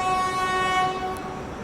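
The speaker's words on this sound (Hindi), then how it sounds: "कोई तो ट्रेन जा रही है, कोई गुड्स ट्रेन है।" A goods train passes through Katni Junction with a loud, unbroken rumble and sustained horn-like tones ringing over it, close and steady throughout.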